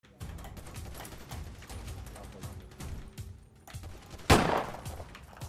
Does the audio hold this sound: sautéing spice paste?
no